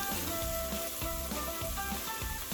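Masala paste made with garlic paste frying over a low flame in a pan, giving a steady close sizzle with soft stirring scrapes throughout.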